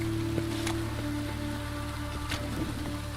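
Steady rain falling in The Witcher 3, a constant soft patter over low ambient hum with a faint tonal drone and no talking.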